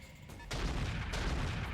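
A mech's weapon firing in the RogueTech battle game: a faint muffled boom swells into a sustained rumbling roar, with a second sharper crack partway through, all fairly quiet.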